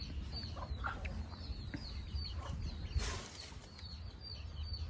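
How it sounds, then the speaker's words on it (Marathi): Several chickens cluck and chirp in a rural yard during a Makar Sankranti outing, with repeated short calls close by over a steady low background rumble. "जाम कोंबड्या आहे बघू शकता."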